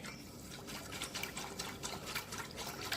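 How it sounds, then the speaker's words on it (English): A whisk stirs jelly mix into hot water in a bowl, giving a faint, quick, rhythmic sloshing and scraping that continues steadily with no talking. "So we start off with hot water and using a whisk, we mix the jelly with the water."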